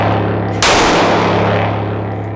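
A single sharp shot from a CZ Shadow handgun at a range cracks out at about 0.6 s, loud and close, with a long ringing decay after it and no talking.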